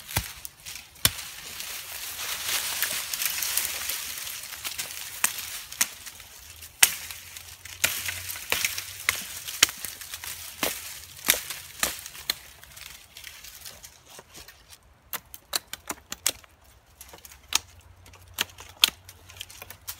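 Heavy camp knife chopping branches for a shelter outdoors, sharp woody thwacks repeating irregularly, some in quick clusters, close and crisp over quiet background.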